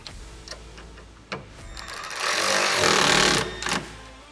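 A 10mm socket tightens the windshield catch bolt on a SuperATV flip windshield fitted to a Kawasaki Mule Pro FXT. It gives close, rapid ratcheting clicks that build into a dense, steady burst of ticking before easing off.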